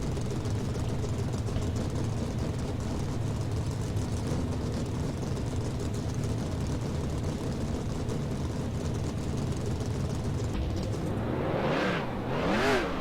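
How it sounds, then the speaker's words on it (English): A loud engine roar passes by outside, swelling and fading with a whooshing pitch sweep near the end over constant rumble. "That was a loud car outside."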